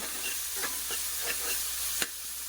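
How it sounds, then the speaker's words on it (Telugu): Ginger garlic paste frying in a pan while being stirred, a steady soft sizzle with a few scraping strokes and one sharper clack near the end, heard alone with no talking. "ఈ అల్లం వెల్లుల్లి పేస్ట్ అనేది పచ్చివాసన పోవాలి అప్పుడు దాకా ఫ్రై చేసుకోండి"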